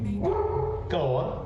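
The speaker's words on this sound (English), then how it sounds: "So sorry about that barking, by the way, John. I'm not sure what my dog's going off about" A pet dog barks and yips in the background while someone talks over it, the dog's short barks partly masked by continuous speech during a live esports match commentary.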